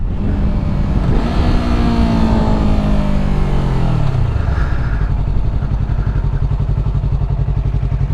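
A Yamaha R3 motorcycle engine roars loud and close, its pitch sliding down as a gear drops, then holding a steady, buzzing drone.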